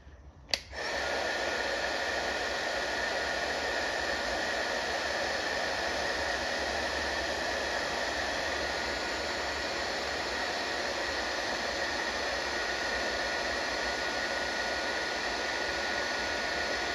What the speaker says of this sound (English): Takes a couple seconds for this heat gun to warm up.